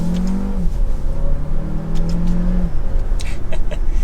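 A 2024 Dodge Hornet R/T Plus Blacktop EAWD engine pulls hard while driving, its tone rising, dropping at a shift, then climbing again, loud and close with road noise underneath.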